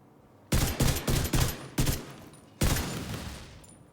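Rapid rifle fire and explosions from The Division 2 shooter game, several close, loud bursts in quick succession followed by a longer blast that trails off.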